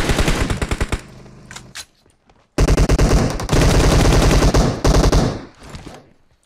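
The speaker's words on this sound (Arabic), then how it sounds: "هاي طلقة الفلير جان تقولون وينها" Rapid gunfire bursts from a PUBG Mobile match, loud and close, with dense automatic shots, a brief lull near silence, then further sustained firing that tapers off at the end.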